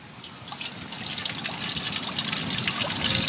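A steady thin stream of cold-pressed sesame oil pours continuously, a soft trickling hiss that grows slightly louder toward the end.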